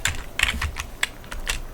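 Quick, irregular keystrokes clatter on a computer keyboard while a command is entered in a coding session, close and clear with no voice.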